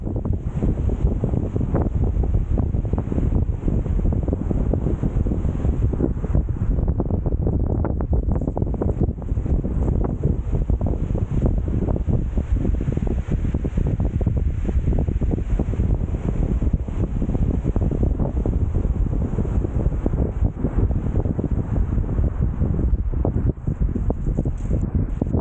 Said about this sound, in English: I was greeted with windy conditions once again